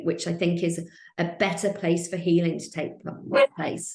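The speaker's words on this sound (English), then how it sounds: "Sorry, that's my dog." A pet dog barks and yips in short bursts, close by, mixed in with a person speaking over it.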